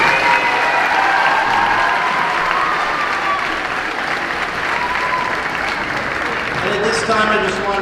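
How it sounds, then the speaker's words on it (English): Loud, sustained applause from a large crowd at a 5th grade moving-up ceremony fills the room, with cheers and voices mixed into the clapping. "Let's give all our boys and girls another loud round of applause."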